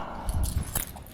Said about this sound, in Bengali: ভাই এসে আমাকে চাবিটা দিয়ে দিয়েছে